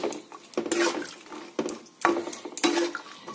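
A lid clatters onto a steel cooking pot of dal, several close metallic knocks and scrapes in quick succession, each with a short ringing tail, in a quiet kitchen.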